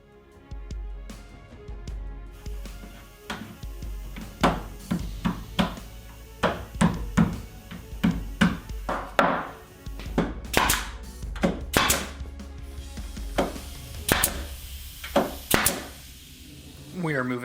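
Brad nails are shot into the wooden frame of a custom game table, giving a long series of sharp, close thunks at irregular intervals, some in quick pairs, with speech over them.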